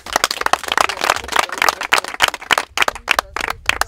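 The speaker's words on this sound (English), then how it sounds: "Clap hands for Jesus." A church congregation at a settlement gathering clapping hands together, dense uneven rapid claps that are loud and close, with a voice or two faintly mixed in.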